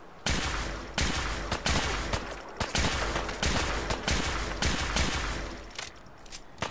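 Dense, loud rapid gunfire in the video game Fallout 4, sustained bursts of shots cracking one after another almost without pause.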